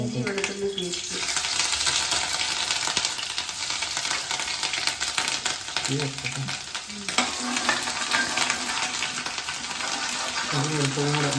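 Onions frying in hot oil for a home-cooked chicken curry, a steady dense sizzle with stirring scrapes throughout, close and fairly loud, with brief bits of speech over it.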